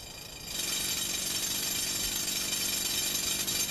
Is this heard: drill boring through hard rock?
yes